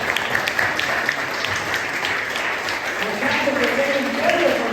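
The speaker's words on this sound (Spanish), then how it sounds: "Démosle palmas a Él." A congregation claps steadily together, a dense wash of applause that swells slightly toward the end.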